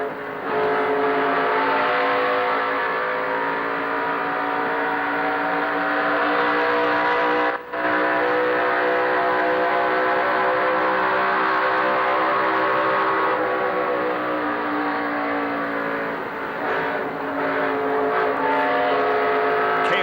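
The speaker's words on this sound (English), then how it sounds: "Being passed by several cars in turn 3." Several NASCAR Winston Cup stock cars roar past in turn 3 of a 1988 race, a loud, continuous engine drone that swells and shifts as the cars pass, with steady high-pitched harmonics and no talk.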